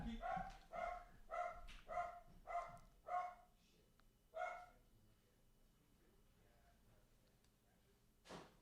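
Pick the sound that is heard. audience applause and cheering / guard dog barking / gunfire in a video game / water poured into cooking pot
guard dog barking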